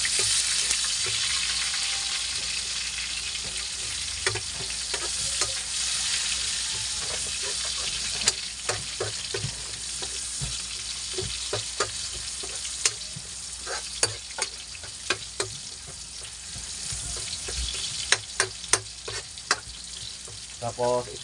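Onions hit a pan of already reddened garlic and sauté with a steady, close sizzle and hiss, broken by scattered clicks and scrapes of stirring, for a squid dish.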